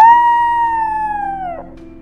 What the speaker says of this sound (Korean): 그 모습을 지켜보던 늑대 무리들도 모글리를 도와 시어칸을 위협했어요